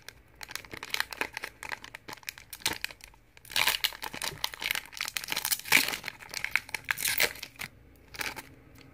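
Tough crinkly wrapper of a 2019 KBO League baseball card pack being wrestled and ripped open by hand, with irregular close crinkles and tearing that grow busier and louder in the second half, no voices.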